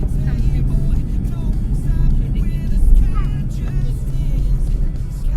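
Car cruising along the Delhi–Amritsar highway, a steady loud low road and engine rumble throughout with tyre and wind noise, and people talking over it.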